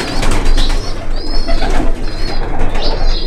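Imported red-eyed pigeons cooing up close, several overlapping low throaty coos repeating in quick succession with a constant low hum beneath.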